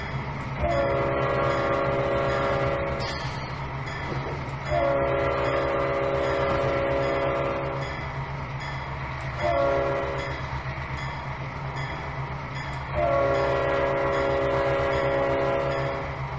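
A simulated train rolls steadily in the Trainz 19 game, with a constant low rumble under repeated long horn blasts, four sustained blows spaced across the stretch.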